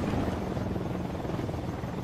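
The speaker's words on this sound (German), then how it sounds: "Da kommt ein Heli, darf den abschießen?" A helicopter in Ghost Recon Wildlands, its rotor thumping in a steady, continuous drone at moderate distance.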